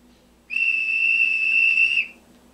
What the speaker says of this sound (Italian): F11, fischio capostazione.